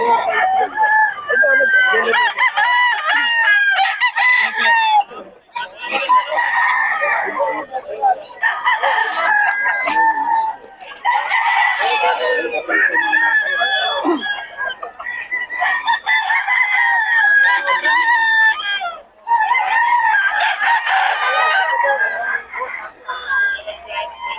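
Several Blues-breed gamefowl roosters crow repeatedly and loudly in overlapping, harmonic calls, with brief pauses between bursts and people talking in the background.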